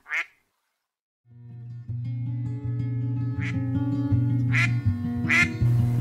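A cartoon duck gives four sharp, nasal quacks, one alone at the start and three more over a sustained musical backing.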